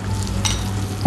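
Shallots and garlic fry in a pan, a soft continuous sizzle with a brief stirring scrape partway through and a louder clatter at the very end, close and short.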